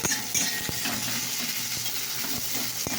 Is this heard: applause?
no